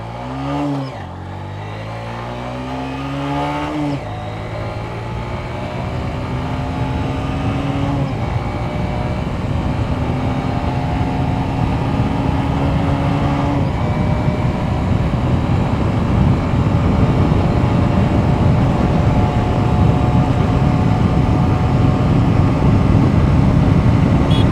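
A Honda SP125 motorcycle accelerates hard toward top speed on a short stretch, engine pitch climbing through several gear changes and then holding a steady high drone with growing wind noise, loud and close, with no talk.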